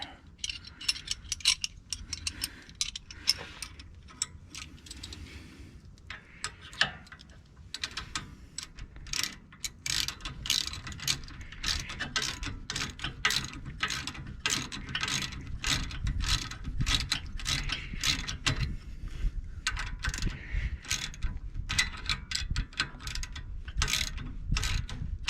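A ratchet wrench snugs down bolts on the front end of a Jeep XJ, giving a long run of fast, close metallic clicking in steady bursts that carries on without a pause and with no talking.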